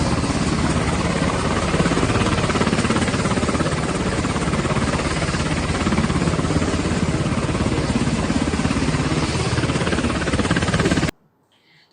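Helicopter carrying soldiers laid on stretchers, a loud continuous droning engine and rotor roar that holds steady and then cuts off abruptly just before the end.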